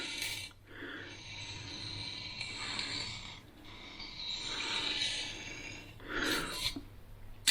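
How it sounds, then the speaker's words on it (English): Kitchen knife drawn back and forth across a sharpening stone, a repeated rasping scrape in several slow strokes with short pauses between, close and fairly quiet. "we're just going to come back along the stone and forwards"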